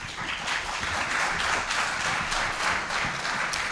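An audience applauds at a legislative candidates forum held by two libraries, a continuous burst of many hands clapping at moderate loudness.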